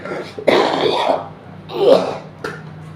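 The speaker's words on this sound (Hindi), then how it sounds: "खांसी आ गई।" A few harsh coughs come in short separate bursts, close to the mic, with brief quiet gaps between them.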